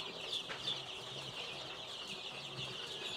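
Four-week-old Darag native chickens kept in a brooder on paper and rice hull bedding, a dense chorus of high chirping and peeping, steady and fairly close, with occasional louder calls standing out.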